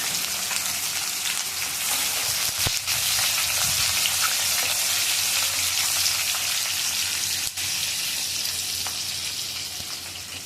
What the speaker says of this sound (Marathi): पाव चमचा जिरा त्यानंतर कांदा टाकतो